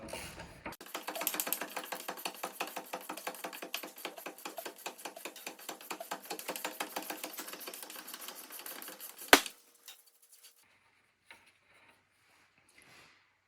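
A ratchet with a 32mm socket loosens the axle nut on a 2010 Dodge Grand Caravan, a long run of rapid, even, close clicks ending in a sharp clunk, followed by near silence with a few faint taps.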